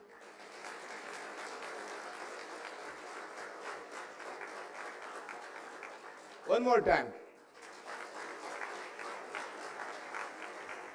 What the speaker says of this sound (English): All graduates only. Can you clap once?